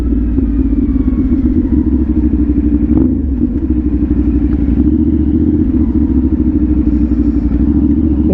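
A CFMOTO NK450 motorcycle being ridden, its engine a loud, steady, close drone with a deep rumble and constant wind noise throughout, without speech.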